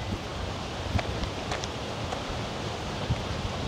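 Wind blows steadily across a lakeside campground at Jordan Lake, a broad constant rush with faint rustling and occasional soft buffets against the microphone.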